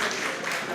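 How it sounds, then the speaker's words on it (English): An audience at a mental health awareness event applauds the chairman, giving a brief, even wash of many hands clapping at close range. "an applause for our chairman"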